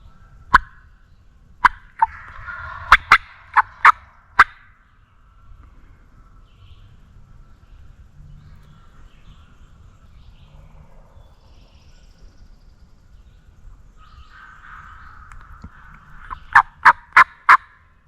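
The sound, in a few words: wild turkey gobbling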